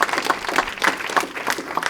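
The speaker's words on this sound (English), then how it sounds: "So just really a final round of applause for Catherine." An audience at a talk on political partnerships gives a short burst of applause, with dense, fairly close clapping that pulses evenly for about two seconds.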